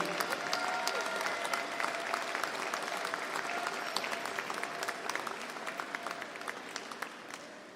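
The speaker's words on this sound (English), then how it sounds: "I was thinking more like you'd want to stand up and give them a round of applause." A university winter commencement audience gives a standing ovation, sustained dense applause filling the hall, with individual sharp claps standing out as it thins toward the end.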